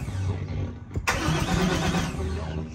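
A car engine cranking over without catching, with a steady chugging starter rhythm that pauses briefly, then resumes, close and fairly loud with no speech.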